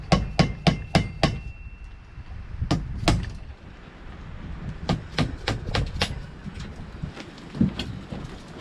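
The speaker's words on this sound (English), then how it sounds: "let's get these clips off. This is my chiseling screwdriver" A chiseling screwdriver is hammered to knock U-joint clips off a 2005 Dodge Ram 3500 axle shaft, with two bursts of sharp, evenly paced metal strikes up close and a short pause between them.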